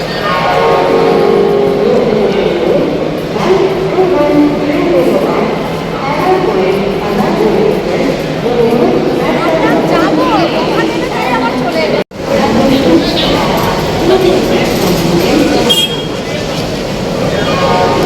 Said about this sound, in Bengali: এই যে আমাদের ট্রেন চলে এসেছে